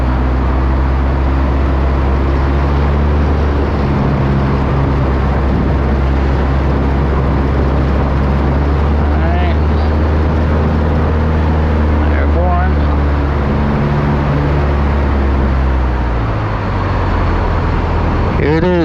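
Steady, loud drone of a stock Cessna 172 piston engine in a flight simulator, a constant low hum with layered harmonics running throughout, with a voice talking over it now and then.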